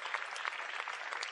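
A church audience claps steadily through a sermon, a dense, even patter of many hands at moderate loudness with no voices over it.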